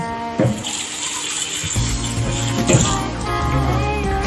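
Water runs steadily from a kitchen tap to soak sliced onions for a steamed fish dish, a continuous splashing flow with a short gurgle near the start.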